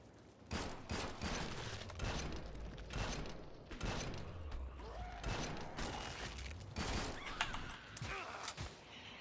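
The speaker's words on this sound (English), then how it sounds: "Shooting them is almost too easy." Gunfire in the Killing Floor 2 video game, made up of repeated loud shots and bursts spread through a busy, chaotic fight with low rumbling underneath.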